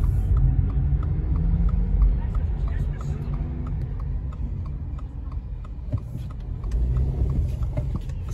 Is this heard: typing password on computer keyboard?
no